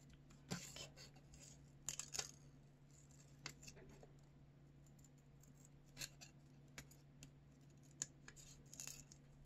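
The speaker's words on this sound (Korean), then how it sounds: "팔까지 같이 이렇게 가위로 오려주세요." Scissors snip through colored origami paper in a quiet room, a scattered series of short, crisp cuts spaced a second or two apart over a low steady hum.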